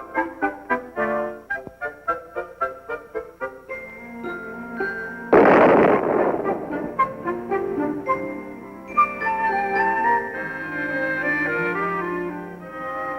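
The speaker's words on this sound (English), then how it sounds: "A little thing like an explosion isn't going to keep Billy from having a hot breakfast" A stove explodes in the 1915 Chaplin silent comedy Work: one sudden loud burst of about half a second cuts into a lively piano-style score, and the music carries on right after it.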